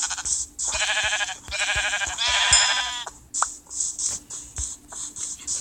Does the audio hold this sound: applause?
no